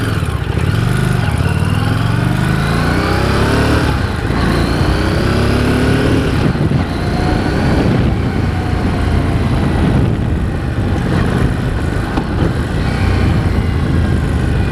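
A 2017 Harley-Davidson Street Rod motorcycle roars loudly up close, its engine note rising through gears and falling away under engine braking in repeated sweeps, with wind rush throughout.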